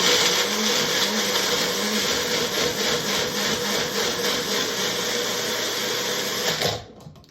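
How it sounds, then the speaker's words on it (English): A Magic Bullet blender whirring loudly as it purees cilantro, parsley, lemon juice, garlic and olive oil into a paste, a steady, close motor roar with slight pulsing that cuts off abruptly near the end. "we're just going to blast it up in our magic bullet"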